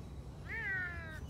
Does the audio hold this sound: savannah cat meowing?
yes